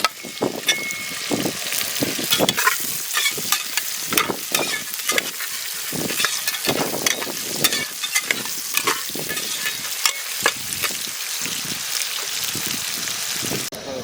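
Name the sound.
onions and chillies frying and stirred in pan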